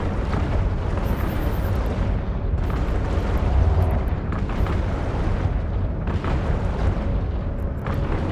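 A spaceship in a space combat game takes fire and explodes, producing a loud, continuous rumbling roar of blasts and booming bursts that swell and fade in waves without pause.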